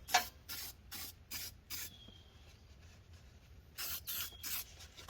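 Short bursts of aerosol spray paint being applied to a Hummer H2 part, a series of hissing blasts in two clusters separated by a quieter pause, close and fairly faint, with no talking.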